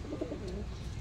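A Punjabi Malwai pigeon gives a brief, low, throaty coo, close and fairly soft, with no voices.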